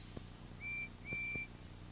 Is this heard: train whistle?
yes